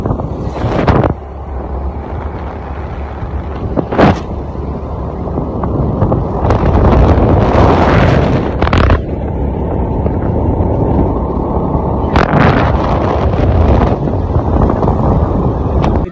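Heavy wind buffeting a microphone while riding a scooter on an evening ride, a steady loud roar that fills nearly the whole clip with brief breaks near the start and around the middle.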